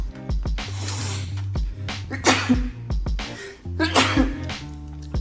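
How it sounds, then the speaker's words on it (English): A close sneeze bursts out twice amid low droning sounds, with harsh, breathy blasts standing out between steady tonal hums. "There's some dust over here, so it made me sneeze"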